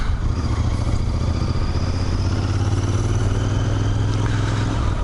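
A motorcycle passes nearby, its engine droning steadily and loud from start to finish, with no talk over it.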